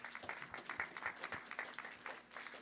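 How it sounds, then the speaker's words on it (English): Applause from a modest audience at a city council candidates' climate forum in Framingham, a brief, fairly faint round of clapping with scattered individual claps and no talk over it. "another round of applause for our candidates"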